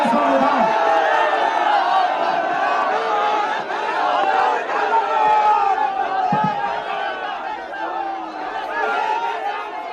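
A large crowd at a political rally roars and chants continuously, a dense wall of many voices with shouts rising and falling and no single speaker standing out.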